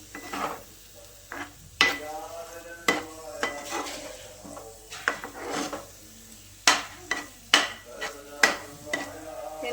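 A spatula scrapes and rubs through besan batter with spices in a pan over a low flame while making besan bhurji. The strokes come as an irregular series of loud, close rasps over a soft background sizzle, with no speech.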